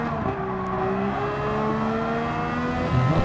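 A Honda race car engine in Gran Turismo 7 at Spa-Francorchamps, a loud, close, steady high-revving whine holding pitch, then a brief lift and a fresh surge of throttle at the end.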